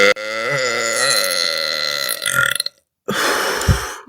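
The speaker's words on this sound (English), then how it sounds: "That's about as long as my average burp gets." A long, loud burp rolls out alone, its deep voiced drone wavering for over two seconds before breaking up into choppy bursts, then a short pause and a rough, breathy second burst.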